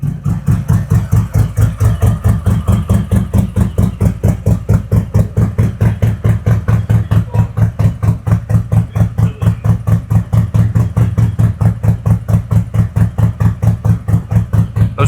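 A 2021 Harley-Davidson Road Glide 114 fitted with a CR483 cam idles up close, a loud, lumpy, evenly pulsing V-twin beat that holds steady throughout with no voices.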